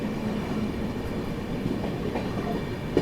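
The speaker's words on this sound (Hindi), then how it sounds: "और सामने दोस्तों शायद से उधमपुर सूबेदारगंज एक्सप्रेस है।" Udhampur–Subedarganj Express passenger train rolling past at a junction, a steady loud rumble of wheels and carriages continuing throughout without pause, with faint rail clatter near the end.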